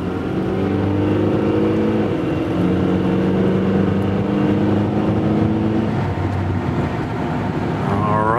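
A 1995 Honda Accord cruises along a country road, its engine droning loud and steady from inside the cabin, with a low hum and faint shifts in pitch as it holds speed.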